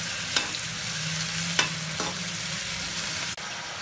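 Mushrooms fry in a pan with a steady, close, broadband sizzle that fills the whole stretch, punctuated by a few sharp spatula taps and a brief scraping stir; no one speaks.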